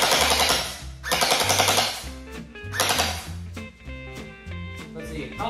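A Nerf Mythic blaster firing in loud, snappy rapid bursts, rattling like a machine gun in two long volleys followed by shorter clattering runs, with mechanical whirring tones underneath.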